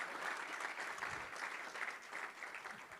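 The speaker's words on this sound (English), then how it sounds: "Round of applause first for Brechtje" An audience at a telecom industry conference session claps in steady, soft applause heard from a distance and held at a low level throughout.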